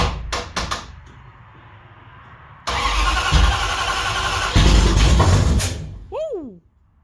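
A Mopar W2 340 engine cranks at close range, then catches and roars to life loudly before cutting off near the end, with voices around it.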